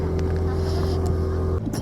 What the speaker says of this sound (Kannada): ಬೋಟಿಂಗ್ ಅಲ್ಲಿ ಇದೀನಿ, ಇದೆ ಫಸ್ಟ್ ಟೈಮ್ 1 hour ಅಂತೆ.